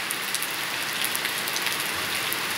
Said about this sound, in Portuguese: Chuva em Jabitacá, Sertão de Pernambuco.